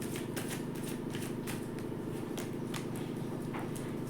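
Tarot cards shuffled and drawn for a reading, a steady run of soft papery riffles and flicks with small sharp snaps, close by with no voices.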